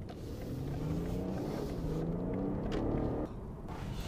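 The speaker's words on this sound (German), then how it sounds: "Gas kurz antippen und es geht los." A BMW 540i xDrive Sportline (G30) pulls away from standstill, its engine giving a steady low rumble with rising harmonic tones as it gains speed, then easing off near the end; close, clear and without talk.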